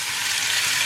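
Thin pieces of chicken breast sizzling in a hot pan for Japanese ramen soup, a close, continuous crackling hiss that stays loud and even throughout.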